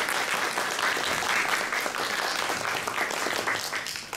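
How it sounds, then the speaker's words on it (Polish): An audience at a youth vocal competition at an ecological festival applauds young singers, a dense, steady burst of clapping that holds at an even level for several seconds before tapering slightly. "Ogromne brawa dla Was."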